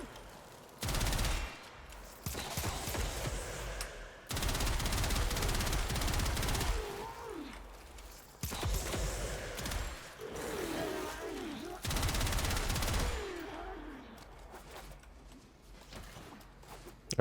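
Rapid bursts of Gotva Prime rifle fire in Warframe ring out in several sustained volleys separated by short pauses, loud and dense, with faint game effects between them.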